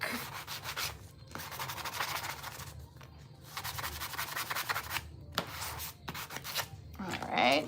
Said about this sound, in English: I'm gonna go ahead and sand the back.